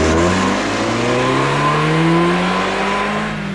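A 1990s Ford Escort hot hatchback driven hard on a test track, its engine droning loudly and steadily with rising pitch as it accelerates, close and continuous with no talk.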